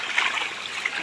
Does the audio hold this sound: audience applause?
no